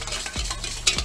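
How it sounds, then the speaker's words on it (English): Vinaigrette with about a teaspoon of pepper being whisked or stirred in a bowl, a brief burst of scraping, swishing strokes with a sharper clink near the end, close and fairly quiet. "And let's get this mixed up."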